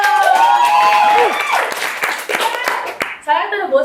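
Applause rises in a podcast studio as guests are welcomed, a few seconds of clapping from a small group under overlapping voices and laughter, thinning out as talk takes over.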